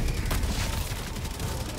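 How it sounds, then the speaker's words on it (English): Dense, continuous gunfire and explosions in the video game Helldivers 2, a loud, steady barrage of shots and booms with no pause, up close and filling the scene. "Oh god, the gunfire!"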